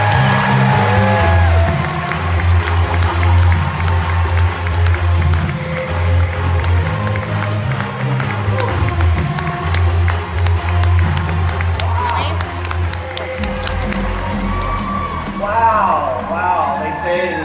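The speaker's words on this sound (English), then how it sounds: "let's give a giant round of applause to someone" A large conference audience greets an opening speaker with sustained applause, cheers and whoops, a dense, loud crowd roar that carries on without pause under booming venue sound.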